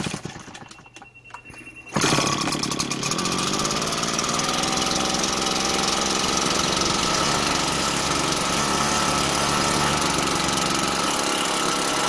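A petrol leaf blower, primed and choked for a cold start, catches and settles into a steady, slightly fast idle. The loud, even engine drone runs close and alone with no voices.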